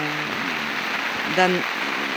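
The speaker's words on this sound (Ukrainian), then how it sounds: "Дощик продовжується." Steady rain hiss falls throughout a volunteer poetry reading, an even wash of noise with brief snatches of a voice rising over it.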